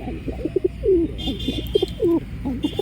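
A pet pigeon coos up close in repeated soft, throaty, rolling phrases, with faint higher twittering from other birds in the background.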